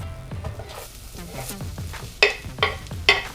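Minced garlic and onions sizzle in grapeseed oil in a pan, with a steady fry under clattering stirring and three sharp utensil knocks toward the end.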